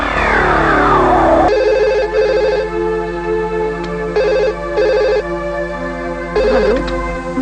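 Telephone ringing in a TV serial scene, loud electronic trilling bursts repeating in short rings with brief gaps, over a low background hum.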